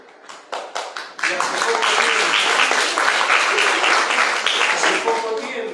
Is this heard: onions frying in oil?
no